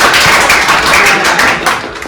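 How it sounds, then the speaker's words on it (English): Audience applause for a competitor at a National Science Day event, a dense, steady wash of many hands clapping that stays loud and even for about two seconds. "So please give a round of applause"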